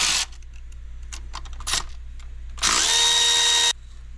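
A power tool spins out reverse Torx E8 bolts on the oil filter housing of a Dodge Caravan 3.6 L engine, two short bursts of close whirring, a clink of parts between them, then a longer one-second run.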